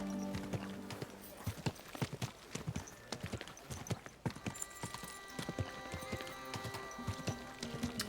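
A horse's hooves clip-clop in a steady walking rhythm as it is ridden in the medieval video game Kingdom Come: Deliverance 2, with crisp close hoofbeats over quiet ambience and a brief whinny.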